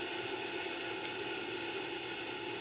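Boeing 787 jet engines roar at maximum takeoff thrust, a steady, fairly quiet broadband rumble and whine heard from inside the aircraft, with no talking.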